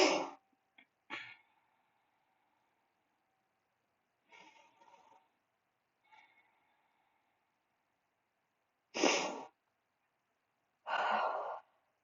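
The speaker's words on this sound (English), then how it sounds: "Take your 3 breaths" Slow, deep breaths during a yoga stretch: a few long exhales with quiet pauses between them, close and soft, with two fuller, louder breaths near the end.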